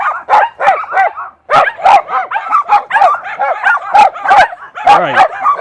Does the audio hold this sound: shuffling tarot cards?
no